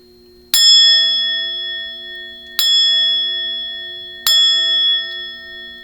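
Three clear metallic strikes of a ritual bell spaced a couple of seconds apart, each ringing out with a bright, sustained shimmering tone in a quiet room.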